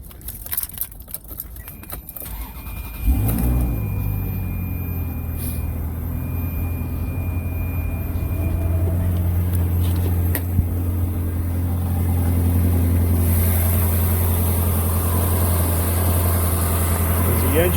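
A 2001 Ferrari 360 Spider with a recently serviced clutch cranks into life after a few seconds of quiet handling noises, then settles into a steady, close, continuous idle that holds loud and even to the end.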